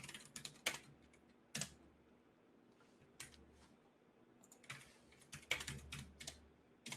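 Computer keyboard typing in bursts of quick clicky keystrokes separated by short pauses, close and fairly quiet against a low background hum.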